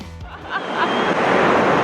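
Surf washing steadily onto the beachfront of an all-inclusive hotel in Puerto Vallarta, Mexico, a continuous broad rush of breaking waves that swells louder after the first moments, close and unbroken, with no one talking.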